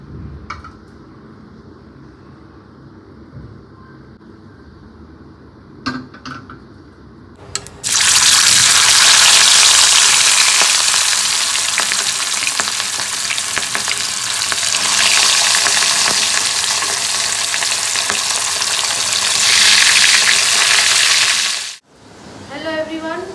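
Fish marinated with salt and turmeric drops into hot oil in a pan, setting off a loud, dense sizzle that roars steadily for about fifteen seconds, with quieter kitchen sounds before and after.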